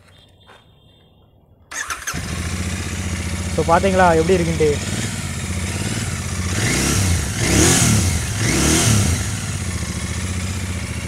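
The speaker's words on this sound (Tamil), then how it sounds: "இப்போ வந்துட்டு இந்த பைக்கோட எக்ஸாஸ்ட் நோட் வந்து பார்க்கலாம்." A Royal Enfield Interceptor 650 engine starts and settles into a deep, throbbing twin-cylinder exhaust note, revving up a few times, loud and close, with someone talking over it briefly.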